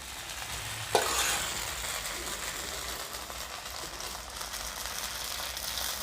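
Coconut milk batter for kanom krok sizzles steadily in a hot dimpled pan, a continuous close frying hiss with one brief sharp clink near the start and no voices.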